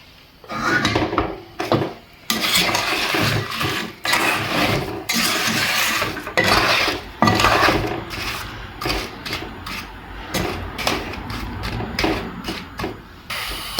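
A spoon stirs a sticky apple and sugar sweet mixture in a pan over a gas flame, making loud, close, rhythmic scraping and knocking strokes that repeat with brief pauses.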